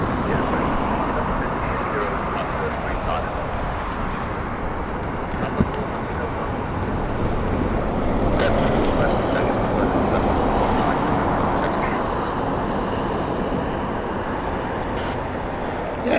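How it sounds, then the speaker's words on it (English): A KLM airliner passes low overhead near Heathrow Airport, a steady broadband roar that swells slightly toward the middle and holds, with faint voices underneath. "No, I think it's KLM going to Sao Paulo."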